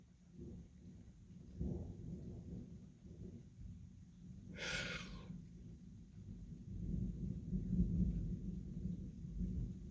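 Thunder from a nearby lightning strike in Alsace rumbles low and rolling through the whole stretch, swelling and fading in waves. A brief burst of close breathy noise cuts in midway.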